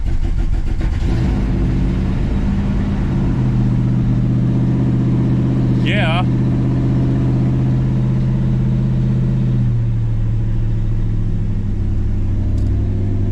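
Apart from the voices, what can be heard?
car engine starting and running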